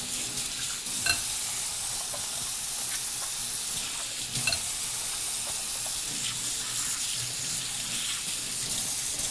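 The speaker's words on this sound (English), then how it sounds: "Let me wash my hands just a sec." Hands being washed under a running kitchen sink tap, a steady close splashing hiss of water with a few brief louder splashes and knocks, no talking.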